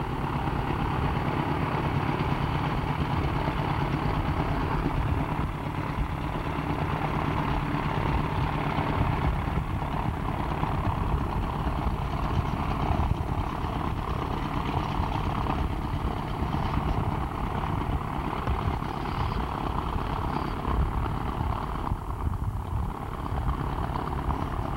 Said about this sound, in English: One of the most popular aircraft, of course, is the de Havilland Otter.